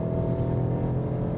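A BMW 1 Series, the second-generation front-wheel-drive-based model, with its engine held at higher rpm while driving: a steady, dense engine drone with a sustained hum, no talk over it.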